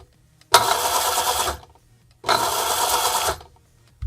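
An electric skateboard's motor whirs in two separate bursts of about a second each, a close buzzing whine as the motor brakes, with quiet pauses between.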